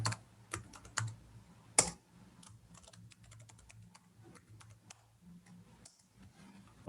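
A new password is typed on a computer keyboard, a quiet, irregular run of light key clicks with a few sharper taps, close and with no talk over it.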